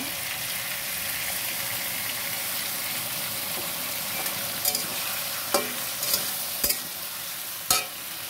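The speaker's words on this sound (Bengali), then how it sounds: "টমেটো দিয়ে দিচ্ছি, জিরে আদা রসুন বাটা" Tomatoes with cumin, ginger and garlic paste sizzle in a pan, a steady frying hiss broken by several stirring scrapes and clinks toward the end.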